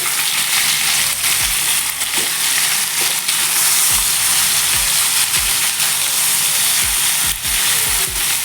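Cauliflower and potato pieces frying in hot oil for a Bengali fish curry, a steady loud sizzle with stirring clinks and scrapes of a spoon against the pan, no talking.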